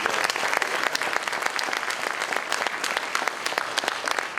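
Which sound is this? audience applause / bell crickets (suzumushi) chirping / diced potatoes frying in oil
audience applause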